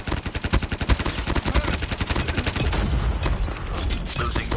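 A sentry gun in a Call of Duty multiplayer match fires a rapid, evenly spaced stream of loud shots for about three seconds, then gives way to a sustained rumbling wash of battle noise.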